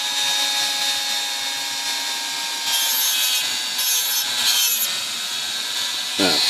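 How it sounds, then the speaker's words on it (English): A Dremel rotary tool whines steadily as it grinds the steel edge of a typewriter shift lock latch, close and continuous, with slight changes in pitch as it bears on the metal. "Could probably use a file, but I'm going to use the Dremel tool. And I'm going to just give this a little better edge."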